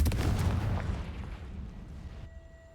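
A burst of magical fire from the Confringo spell ignites a spider web in the Hogwarts Legacy video game, a loud roaring whoosh at the start that crackles and slowly fades over a few seconds, with faint game tones lingering.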